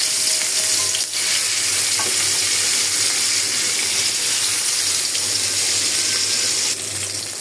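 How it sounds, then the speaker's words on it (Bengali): Rohu fish frying in a kadai, turmeric and salt rubbed on, gives a constant loud hiss of sizzling oil heard close up, with a couple of small clicks and no voices. "এখন আমি মাছটা ভেজে নিব"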